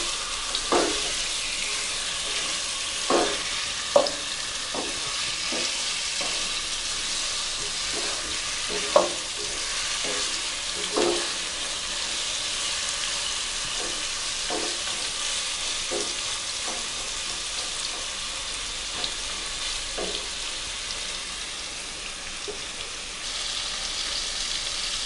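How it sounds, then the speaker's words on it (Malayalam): Chicken pieces fry in hot coconut oil in a pan while being stirred, a continuous sizzle broken by repeated scraping and knocking of the spatula at irregular intervals. "നമ്മളുടെ ചിക്കൻ അതിലേക്ക് ഇടുക. എന്നിട്ട് നന്നായി ഇളക്കി കൊടുക്കുക."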